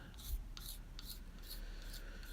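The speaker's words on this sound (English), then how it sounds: "You can see I'm using a utility knife blade as a scraper." A utility knife blade scrapes the old wooden handle of a tack hammer in short, rhythmic rasping strokes, close and faint, about five passes.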